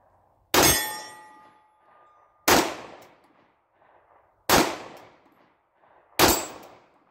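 Four loud, sharp gunshots from a PSA Dagger 9mm compact pistol, a Glock 19 Gen 3 clone, fired at an even pace about two seconds apart. Each crack trails off in a short echo, and there is no talking between shots.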